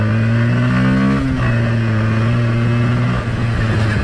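A Bajaj Pulsar N160 motorcycle engine heard up close while riding, a steady loud drone with a rising rev at the start that settles into sustained engine tone.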